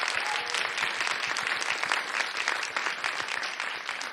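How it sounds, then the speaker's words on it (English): An audience gives a warm round of applause for the panelists at a TwitchCon Europe 2025 theatre session, dense, even clapping that carries on steadily throughout. "can we have a round of applause for our panelists today?"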